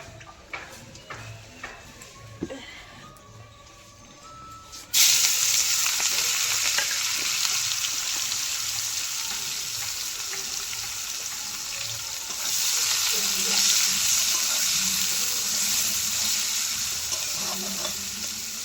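Onions frying in hot oil in a pan, starting with quiet clinks and stirring, then a loud steady sizzle that kicks in sharply and continues with occasional stirring, close up.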